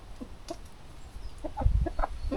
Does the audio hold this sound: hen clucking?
yes